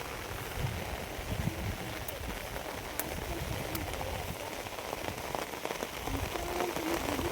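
Steady rain pattering on surfaces, a dense continuous patter with a few sharper drips, moderately loud and unbroken throughout.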